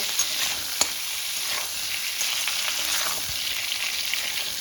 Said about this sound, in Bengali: লবণ আর হলুদটা দিয়ে আবারও একটু নেড়ে ভেজে নেব।